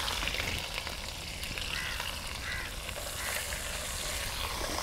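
One large onion drops into hot oil with fried spices and cumin, giving a steady hissing sizzle that stays even and fairly quiet, with faint stirring and no talking.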